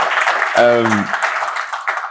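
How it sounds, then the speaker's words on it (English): An audience applauds the host Missy T at a Build Black Better access-to-finance event, a steady wash of clapping across the clip with a voice speaking briefly over it. "Can I get a massive round of applause for Missy T?"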